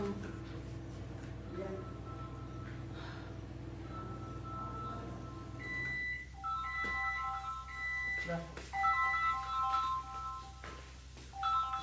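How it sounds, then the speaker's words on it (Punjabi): Indoors at home, a phone's ringtone plays in a series of bright, repeating electronic notes during the second half, sitting under nearby talk and household noise. "ਫੋਨ ਵਜੀ ਅੰਦਰ"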